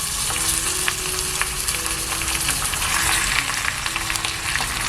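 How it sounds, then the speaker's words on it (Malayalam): Mutton pieces fry loudly with golden-brown onions, a dense, continuous sizzle with faint stirring scrapes and small crackles, close and steady with no talking. "ഇനി ഇതിലേക്ക് മട്ടൻ കഷ്ണങ്ങൾ ചേർത്ത് കൊടുക്കാം."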